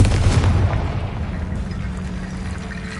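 Confringo fire spell blast in the Hogwarts Legacy video game: a loud, deep booming burst that rumbles and slowly decays over a few seconds, with no speech.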